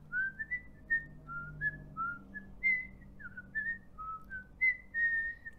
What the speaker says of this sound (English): So you'd like to whistle at night.